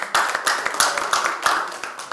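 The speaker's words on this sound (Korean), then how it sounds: "큰 박수 한번 보내주셨습니다" Hands clap in a brisk, steady rhythm, a short burst of applause nearby at a political party meeting, with no talking.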